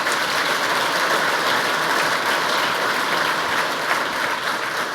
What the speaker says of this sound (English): you can applaud them